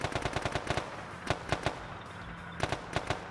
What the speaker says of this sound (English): Mortar firing.